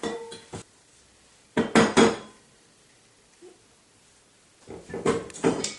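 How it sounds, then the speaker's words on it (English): Cheesecake batter being moved into a separate mixing bowl brings a few sharp clinks and scrapes of utensil against bowl, in short bursts separated by quiet gaps. "I'm going to move my cheesecake portion into a separate bowl"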